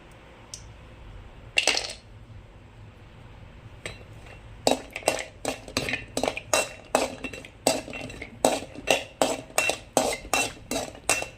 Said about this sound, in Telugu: ఇప్పుడు కాజు ఫస్ట్ వేయించుకుందామండి